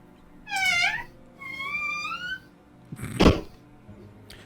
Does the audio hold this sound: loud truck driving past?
no